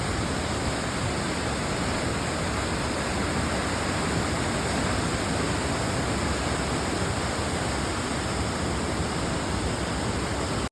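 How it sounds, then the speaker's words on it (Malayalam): A rain-swollen river at Kattappana in Idukki rushes past in full flow, a steady, dense roar of water that holds constant throughout with no voices. "ആ കട്ടപ്പനയാർ നിറഞ്ഞിങ്ങനെ ഒഴുകുന്നുണ്ടോ"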